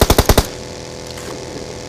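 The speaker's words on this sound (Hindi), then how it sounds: "राइट से भी कोई बंदा मेरे ऊपर गोली चलाता है" Gunfire in the mobile battle game PUBG Mobile: a rapid burst of five loud automatic shots at the start, then a ringing tail, with one more sharp shot right at the end.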